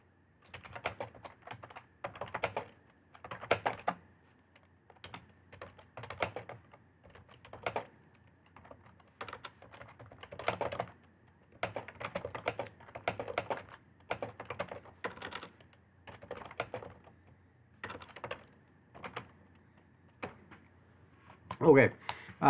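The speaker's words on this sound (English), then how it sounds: "I'm just going to type a quick note here." Computer keyboard being typed on at a desk, quick close bursts of key clicks in irregular clusters with brief pauses, steady throughout.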